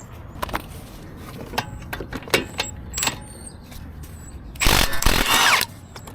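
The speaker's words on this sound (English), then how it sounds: "I'm gonna go get my impact." An impact wrench removes a nut from the strut tower mount of an R53 Mini Cooper S. Light metallic clicks and taps come first, then one loud, close burst of hammering about a second long.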